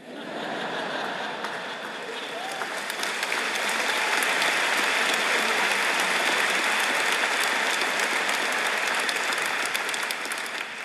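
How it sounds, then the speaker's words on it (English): A large audience at a community gathering applauds continuously, a broad, even roar of clapping that swells slightly and holds strong throughout. "I know Governor Pataki appreciated the applause as well."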